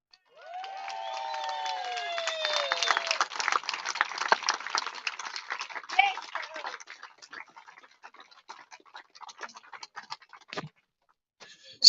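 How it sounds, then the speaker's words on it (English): Crowd applause and cheering with whistles greet ocean rowers Rosie and Angela finishing a 3,000-mile, 61-day Atlantic rowing race in Antigua, loud at first, then thinning into scattered claps and faint voices. "A big applause for the girls"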